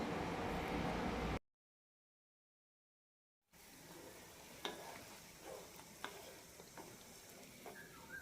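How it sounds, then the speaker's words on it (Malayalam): Raw mango sweet curry with jaggery syrup bubbles in a pan with a soft sizzle and scattered pops, cut by a couple of seconds of complete silence early on. "നന്നായി തിളപ്പിച്ചെടുക്കാം"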